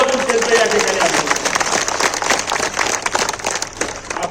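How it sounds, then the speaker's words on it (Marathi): A crowd of members at a sugar-factory gathering claps together in a sustained round of applause, a dense patter of hand claps lasting several seconds, with a speaking voice mixed in. "सगळ्या सभासदांच्या वतीनं एकदा जोरात टाळ्या वाजून त्यांचं या ठिकाणी आलं."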